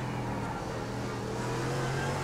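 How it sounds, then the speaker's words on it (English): Simulated AMG race car engine in a racing video game, a steady mid-pitched drone with a sustained tonal hum that holds evenly loud throughout as the car brakes for the last corner. "Braking for the last corner."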